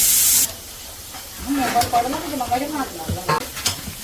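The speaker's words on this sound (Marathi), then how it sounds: "आता कांदा फ्राय होतो" Onion fries in a pan with a steady sizzling hiss and stirring scrapes, while a voice talks over it.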